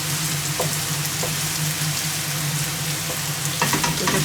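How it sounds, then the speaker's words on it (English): Browned mince for a ragu goes into a big pan and gets stirred, a dense, loud sizzle with a constant hiss, scraping stirs and a low steady hum underneath, close up and without speech. "now we've got to stir in the browned mince, and in it goes"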